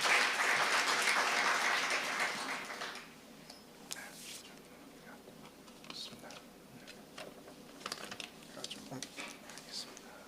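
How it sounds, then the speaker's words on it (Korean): Applause welcoming a speaker at the opening ceremony of a university academic conference, a few seconds of dense clapping that stops abruptly, leaving a quiet room with faint scattered taps and shuffles. "여러분 뜨거운 박수로 환영해 주십시오."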